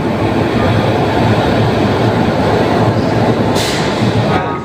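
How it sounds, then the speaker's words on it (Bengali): The Paharia Express locomotive, number 30732, idles at Howrah railway station with a loud, continuous rumble that fills the platform, and a brief hissing burst near the end. "আমার ঠিক সামনেই হচ্ছে আজকে আমার পাহাড়িয়া এক্সপ্রেসের লোকোমোটিভ"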